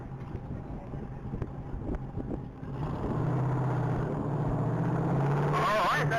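A race car at the Texas Mile top-speed event roars past at about 193 mph, a loud sustained engine drone building and staying strong, with wind buffeting the microphone.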